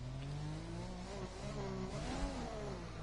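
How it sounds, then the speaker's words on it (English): Racing-game race car engine revving and droning through a burnout, pitch rising and falling with a strong harmonic whine, continuous and close with no voices. "he's just going to do some burnouts, I guess"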